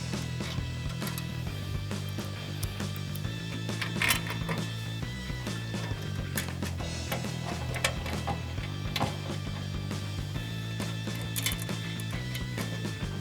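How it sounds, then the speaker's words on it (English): Ratcheting Allen socket and wrench tightening the bolts on a license plate bracket of a 2007-2013 Silverado 1500 front bumper, a steady run of close clicks and metallic ticks with a low background hum. "take a 4mm Allen socket and a 10mm wrench and tighten those down"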